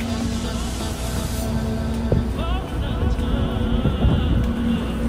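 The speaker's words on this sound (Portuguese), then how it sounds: "Vou mostrar lá a força do motor." Running engine of a Schaefer 660 motorboat at sea, a steady hum buried under heavy wind buffeting the microphone, with a few short knocks and splashes along the way.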